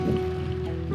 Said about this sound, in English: can you hear that waterfall?